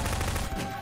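A single gunshot from a video game cracks out loud and close, a short blast with a brief tail and no talking over it.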